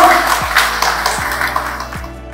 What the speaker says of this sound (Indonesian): Tepuk tangan semua ibu